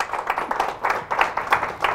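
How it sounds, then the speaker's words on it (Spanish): A church congregation applauds the Lord, a steady pattering of hand claps from a group with a faint voice underneath. "Fuertes aplausos al Señor"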